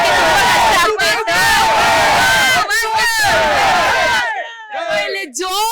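A huge crowd of fans at Puneeth Rajkumar's birthday celebration shouts and roars continuously and loudly, close by, with overlapping yells and whoops that briefly break off near the end.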